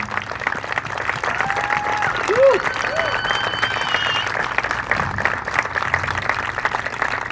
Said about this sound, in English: Please take a moment to clap for them and their efforts.